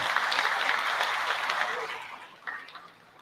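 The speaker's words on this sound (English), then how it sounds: "Let's give him a big round of applause" Audience applause for a Department of Labor and Employment director at a year-end recognition event, a full round of clapping that thins out and trails off toward the end.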